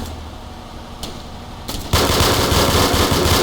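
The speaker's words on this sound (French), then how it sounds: "Le sniper en train de leur tirer dessus pour les avoir de plus loin" Gunfire in a bank-heist shootout in a video game, scattered shots then a sudden loud, dense stretch of continuous firing near the end, no voices.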